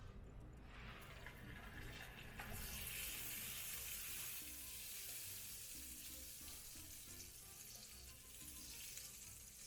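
Butter melts in a pan over low heat while making banana lumpia (turon), giving a steady, soft sizzling hiss throughout, close and continuous with gentle crackle and no talking.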